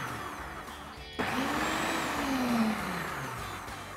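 A food processor pulses nacho dip ingredients into a chunky mix, with a steady motor whir starting abruptly and a rising then falling tone, loud and continuous with no talk.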